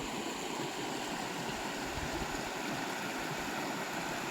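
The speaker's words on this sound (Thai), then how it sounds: "มีแบบว่าน้ำไหลตลอดนะเพราะว่าน้องปลาของเขาจะมีน้ำไหลเข้ามาแบบว่าหมุนเวียน24 ชั่วโมงเนาะ" Steady water flowing around the clock into a fish pond at a rural garden home, a constant broadband rush with no pauses and no voices.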